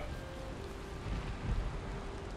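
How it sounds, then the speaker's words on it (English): Soft, steady rain patter in Valheim with a low rumble underneath, fairly quiet and continuous, no talking. "Oh, the rain is fading. I love that."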